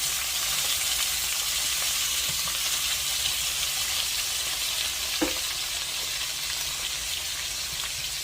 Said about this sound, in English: I have potatoes that I'm going to put in right now with these two, so they can start to cook